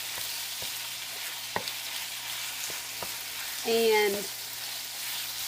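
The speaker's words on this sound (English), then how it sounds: "Get it all mixed up. Let the heat kind of infuse all the spices in there." Spices sizzle steadily in a hot pan as they are stirred, with a few scraping knocks and a brief hum of a voice over the frying.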